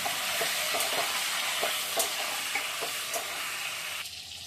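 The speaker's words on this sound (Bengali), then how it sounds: "তারপরে দিয়ে দিল একটু হলুদটা এবার নেড়ে দিলে এটা হলুদ হয়ে যাবে" Food with turmeric frying in a pan, a loud, close, continuous sizzle with periodic stirring scrapes, ending with a drop in the hiss near the finish.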